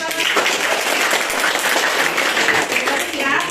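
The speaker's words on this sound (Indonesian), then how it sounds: "Terima kasih, berikan tepuk tangan." A class applauds after a presentation, a loud burst of many hands clapping close by that holds steady, with voices mixed in.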